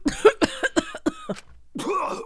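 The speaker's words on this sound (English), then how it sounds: "he's gonna cough up a ton of blood" A character in the video game Danganronpa V3 gives a series of harsh, rapid coughs in quick succession, close and loud, followed by a brief pause and a raspy, strained breath or groan.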